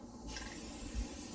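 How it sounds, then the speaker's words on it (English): Spray paint can spraying, a sudden loud hiss starting abruptly and held steadily, close by. "You got too much spray coming at you."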